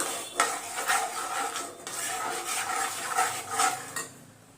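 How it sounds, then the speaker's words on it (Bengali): A spoon scrapes and stirs turmeric and chili powder in a pan while the masala for a tomato hilsa curry cooks, giving close, rhythmic scraping strokes with soft frying underneath. "দিয়ে দেবো একটু হলুদ গুঁড়ো লঙ্কার গুঁড়ো দিয়ে ভালো করে মশলাটা কষিয়ে নেব"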